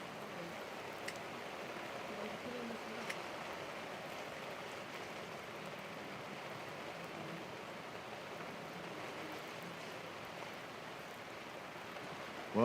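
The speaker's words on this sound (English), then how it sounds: "I'm just watching the rain dribbling off the gazebo" Steady, soft patter of rain falling continuously at a cricket ground in Pembroke, dribbling off a gazebo, with occasional faint drips standing out from the even hiss.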